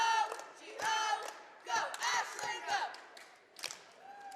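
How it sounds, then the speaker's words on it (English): A crowd at a high school boys basketball game chants a school cheer in loud, rhythmic bursts led by a girl. Voices shout in unison with short pauses between phrases, echoing in the gym. "Did she write that cheer?"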